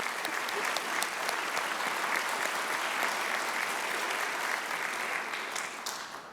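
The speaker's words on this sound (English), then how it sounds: "Let's give them all a round of applause" A crowd at a Yom HaShoah commemoration applauds steadily for several seconds, a dense sustained clapping that tapers off slightly at the end.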